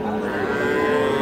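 A young dairy cow lows at a busy rural cattle market, one sustained, steady moo held close and loud for the whole moment against a background murmur of the crowd.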